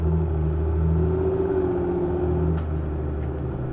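A Mercedes-Benz GLE450 in the City Car Driving game accelerates at half throttle, with a steady, smooth engine hum and a gently rising tone that holds through the clip without talk.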